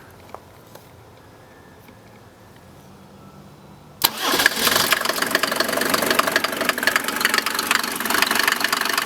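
A 1987 Mercedes 300SDL diesel engine with hot glow plugs cranks and fires about four seconds in after a quiet stretch, then settles into a loud, clattery, knocking idle close by.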